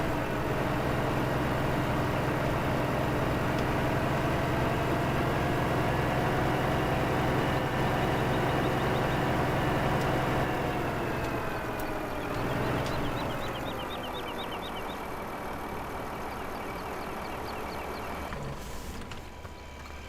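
A tractor engine in the video game Farming Simulator 2015 runs steadily with a low, droning hum that eases slightly partway through, no talk over it.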